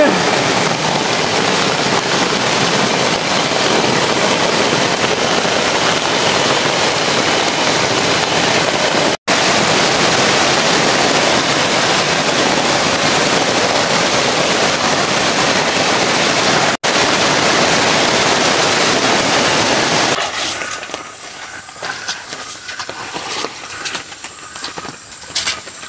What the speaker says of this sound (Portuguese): Muita chuva, chuva apertou mesmo.